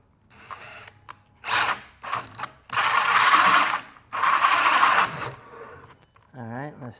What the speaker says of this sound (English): make sure that it's on the drill setting